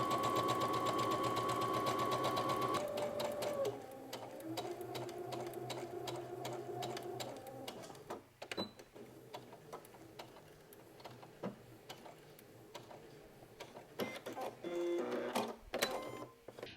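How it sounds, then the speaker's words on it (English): A sewing machine sews a regular stitch along a seam, its rapid mechanical stitching whirring for several seconds, then stops and restarts in shorter bursts with clicks and handling noises. "we're going to go to the sewing machine and we're going to sew a regular stitch"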